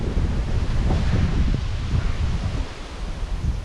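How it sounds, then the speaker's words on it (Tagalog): Strong wind buffets the microphone outdoors in a dense, constant low roar with gusty surges and rustling, loud and close, with no talk. "Oh, ang lakas ang hangin."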